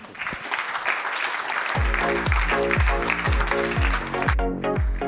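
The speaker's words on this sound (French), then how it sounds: "On peut vous applaudir." An audience at a finance awards ceremony applauds continuously while a thumping rhythmic bass beat kicks in partway through and plays beneath the clapping.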